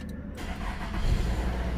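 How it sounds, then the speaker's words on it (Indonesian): A Nissan X-Trail engine cranks and fires up via push-button start, settling into a steady, smooth idle close by, with no voices. "Nah, suara mesinnya masih cukup halus."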